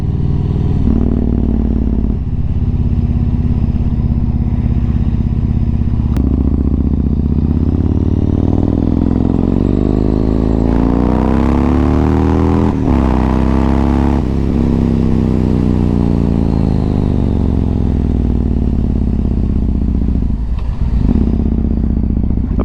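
A motorcycle on a morning commute hums loud and steady from up close, its engine note rising and falling through gear changes, with wind rush swelling midway and no talk over it.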